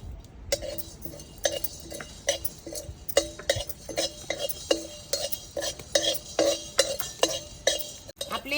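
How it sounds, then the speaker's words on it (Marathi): Whole black peppercorns, cumin and fennel seeds dry-roast in a pan as a spoon stirs them, producing a steady series of light scraping clinks at a fairly regular rhythm, close and clear with no talking. "आपण आता मसाले भाजून घेणार आहोत त्यासाठी घेतलेले आहे दोन चमचे मिरे एक चमचा जिरे एक चमचा बडीशोप"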